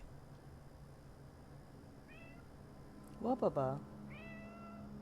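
A cat meows several times, short rising calls close by, while someone talks briefly over faint steady background hum during a Detroit: Become Human stream.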